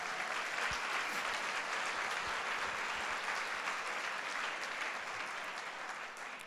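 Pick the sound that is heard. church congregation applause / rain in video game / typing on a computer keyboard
church congregation applause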